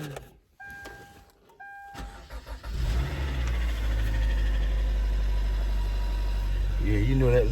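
A used car's medium engine cranks and starts, then settles into a steady rattling idle close by, preceded by a brief electronic chime.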